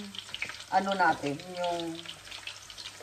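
Squid sizzling and frying in a pan, a steady close crackle running under a person's voice that speaks for part of the time.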